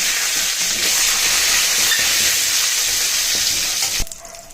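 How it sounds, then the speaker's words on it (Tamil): Green chili and curry leaves sizzle and crackle steadily in hot oil, a loud continuous frying hiss that cuts off abruptly near the end. "இப்போ இதில் பச்சை மிளகாய், கருவேப்பிலை ஆட் பண்ணிக்கோங்க"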